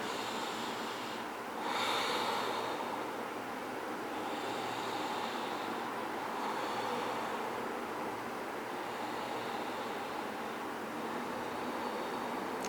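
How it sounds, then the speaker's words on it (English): Slow, deep breaths during a vinyasa yoga practice, soft and airy under a steady background hiss, with one fuller inhale early on and no talking. "3 deep breaths."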